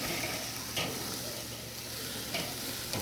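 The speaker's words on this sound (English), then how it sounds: "There's a lot more sizzle here." Bratwursts sizzle on a charcoal kettle grill over the Slow N Sear side, a steady dense frying crackle throughout with a few brighter pops, close and fairly loud, no talking.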